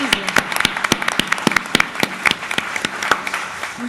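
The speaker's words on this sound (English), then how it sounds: "Can we have a big round of applause?" An audience at an executive forum breaks into applause: crisp, fairly close hand claps in a quick, irregular patter that holds steady for a few seconds.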